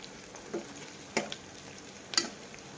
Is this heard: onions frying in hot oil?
yes